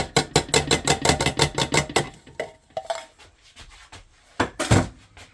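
Canned kidney and pinto beans with their liquid are dumped into a pot for meatless chili: a fast run of hollow clattering taps, then scattered knocks and a wet, heavy plop near the end.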